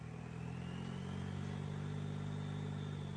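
A tractor engine in a video game drones at a steady, moderately quiet idle, its low rumble holding constant with a faint rising whine above it and no talking.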